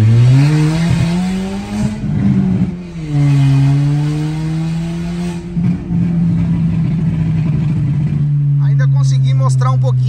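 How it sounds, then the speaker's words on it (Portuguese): A tuned Stage 2 manual VW Golf TSI pulls hard in first gear with a slipping clutch, its engine droning loud and close as the revs rise, dip and climb again, with someone speaking over it near the end. "Vou colocar a primeira marcha e vou dar o pé."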